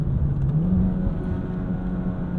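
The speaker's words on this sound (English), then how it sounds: "I had to blip that throttle extra hard to match it properly" A 2008 Mitsubishi Lancer Evolution X GSR engine drones steadily at mid pitch from inside the car, with a brief rise and fall in revs around a throttle blip, and road noise runs underneath.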